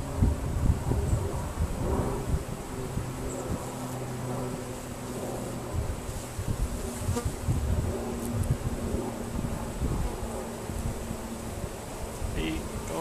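Dense, steady buzzing of a crowd of bees swarming close around an open top bar hive, continuous throughout with faint wind noise and no talking.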